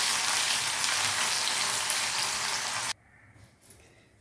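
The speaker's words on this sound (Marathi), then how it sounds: "उरलेले शेवळे असे तळून घेणार" Shevla is deep frying in hot oil, a steady loud close sizzle that stops abruptly, leaving near silence with a few faint clinks.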